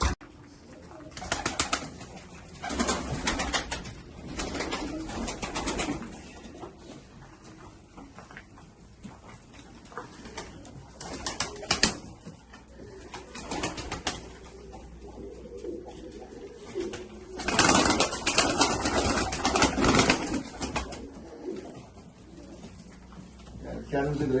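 Pigeons coo repeatedly inside a pigeon coop in Afyonkarahisar, Turkey, with occasional wing flaps. The soft, rolling calls rise and fall in bursts close by, while someone talks at intervals.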